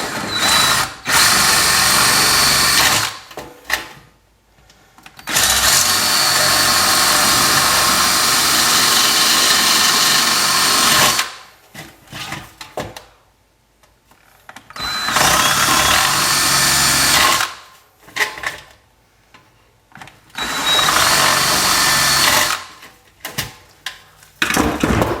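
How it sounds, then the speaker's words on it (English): A power drill bores holes through the wall of a metal can for a wood gas stove, whining loudly in three long bursts separated by short pauses. "I'm going to drill them all and I'll show you the inside of the can."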